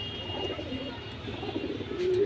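A pigeon coos softly in a quiet indoor setting, low murmuring calls faint against a light background hum.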